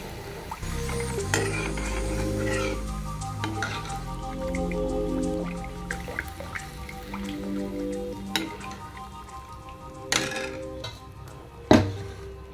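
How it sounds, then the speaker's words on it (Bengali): Mustard seeds with black cumin and cumin sizzle softly as they are stirred in a wok for a hilsa, onion and eggplant dish, with scattered metallic clinks and a few sharper taps over a quiet steady background. "এই যে সর্ষেটাকে দেখো ভালো করে কড়াইয়ের মধ্যে নাড়াচাড়া দিয়ে কালাজিরা জিরা ফোড়ন দিয়ে"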